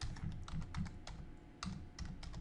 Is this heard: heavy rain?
no